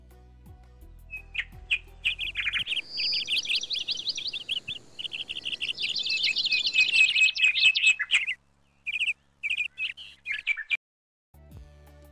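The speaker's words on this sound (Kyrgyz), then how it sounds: "куштардын сайраганы маанайыңарды көтөрдүбү?" Birds chirp and sing in bright, rapid trills and tweets, several voices overlapping, then a few scattered calls near the end.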